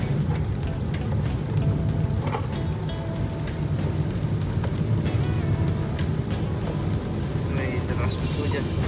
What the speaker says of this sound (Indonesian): Nih deras hujan.